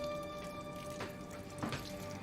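Water running from a household tap in a steady, faint splashing stream with a couple of brief louder gushes, heard alone.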